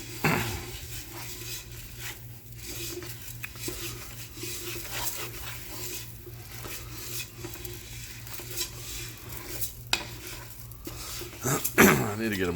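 Black beans and rice stirred in a pot, repeated close scraping and clinking of a spoon against the pot with a faint sizzle underneath, strokes irregular and a louder clatter near the end.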